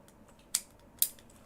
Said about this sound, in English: Alright, we're handcuffed.